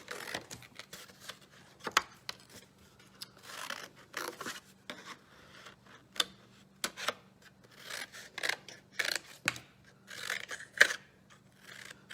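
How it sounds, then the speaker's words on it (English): Scissors snip steadily through paper while cutting out a Christmas tree paper sculpture for a holiday nature craft, with a string of close, crisp cuts and short rustling pauses between them, and no talking. "cut up from the bottom so you can slide that together when it's time"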